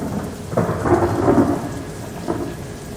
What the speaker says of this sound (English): And on the dark rain fell through many nights